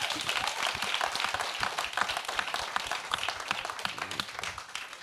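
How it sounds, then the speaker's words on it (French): Steady crowd applause with dense clapping throughout, fairly loud and sustained, with a faint voice or two mixed in. "il faut applaudir ça, s'il vous plaît"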